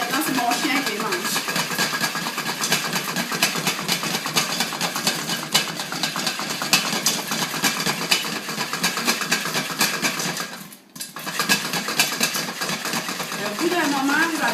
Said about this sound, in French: Au bout d'un moment, vous n'allez plus entendre les popcorn éclater.